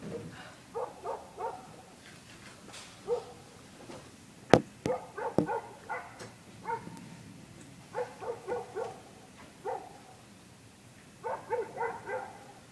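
A dog tugs on a string, giving repeated short barks and yips in uneven bursts with a few sharp knocks, moderately distant and fairly quiet.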